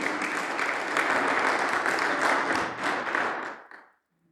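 A church congregation claps steadily and densely for several seconds, the applause fading out toward the end with no voices over it.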